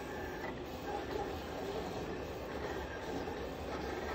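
Roland GX-24 vinyl cutter cutting the back side of vinyl sheet, a steady mechanical whir and rattle running continuously at an even level with no talk.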